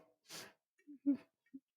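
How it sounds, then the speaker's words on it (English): A single short, breathy nasal snort bursts out near the start, followed by a few faint, brief vocal grunts in an otherwise quiet room. "did you just snort?"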